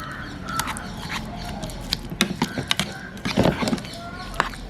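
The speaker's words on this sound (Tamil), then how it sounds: "நல்லா மசிக்க போகிறோம்." Green plantain being mashed by hand with salt and pepper for a Jaffna-style plantain sambal, giving irregular soft squelching and tapping thuds close up, bunched into short bursts.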